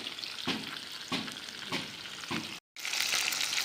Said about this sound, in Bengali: আর এই যে আর একদিকটা ভাজা করছি।